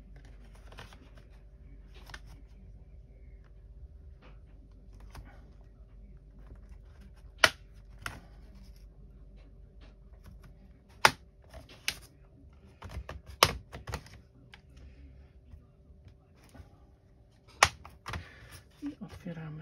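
Plastic case of an HP 15-eg0031nw laptop being pried open around its edges, giving sharp scattered clicks and snaps over a quiet background, with a soft spoken voice.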